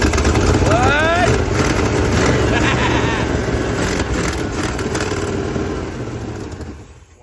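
A 1971 Monte Carlo's old V8 with a lumpy camshaft revs and settles in a loud, close rumble; a voice talks over it before the sound fades out at the end.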